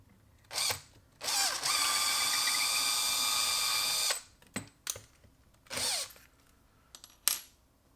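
A cordless drill whines in short bursts, then runs steadily for about three seconds, followed by a few more brief spins, close and loud.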